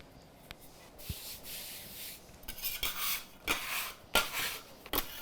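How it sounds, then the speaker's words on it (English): Pie pastry dough for sweet potato pie being rolled out, soft rubbing and scraping strokes in uneven passes with occasional light knocks, close and moderately loud with no talk. "It's always a good idea when you're rolling out any kind of pastry to keep it moving"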